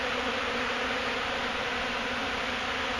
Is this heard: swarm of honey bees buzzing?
yes